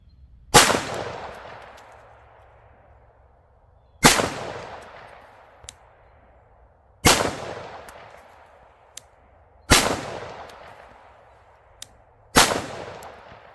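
A 9mm pistol fires Magtech zinc-plated steel-case ammunition: five loud, sharp shots spaced about three seconds apart, each with a ringing decay, and no talk.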